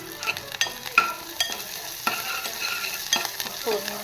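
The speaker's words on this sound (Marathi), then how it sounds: "फोडणीमध्ये कोथिंबीर टाकलेली." Coriander leaves dropped into hot oil tempering for an egg dish crackle and sizzle steadily, with a spoon stirring and scraping the pan in brief sharp clinks throughout.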